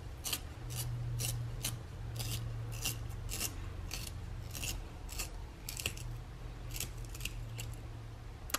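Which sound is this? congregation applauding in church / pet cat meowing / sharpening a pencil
sharpening a pencil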